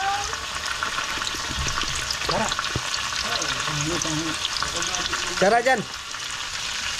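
Garlic and onion sautéing in a pan, a steady close sizzle and frying hiss that continues throughout, with a few brief spoken words over it.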